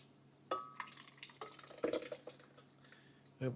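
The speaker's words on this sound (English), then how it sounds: "Remember, never leave the pan alone. Stay always there and stir again." A pan of vegetables is stirred on the stove in a professional kitchen, giving sporadic close clinks, scrapes and small knocks of a utensil against the pan, with soft background noise.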